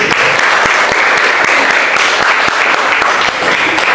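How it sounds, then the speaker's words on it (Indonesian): A classroom of students claps together in steady, dense applause that stays loud and continuous from start to end, with no talking over it. "Ya, oke, kasih aplaus dulu."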